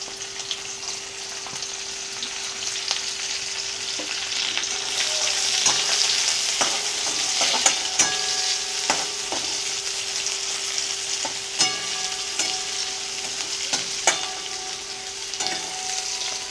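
Onions sizzling in hot oil with cumin seeds and two dried red chillies for a spring onion greens mishali, a steady frying hiss with occasional stirring clicks and scrapes, close and alone without talk.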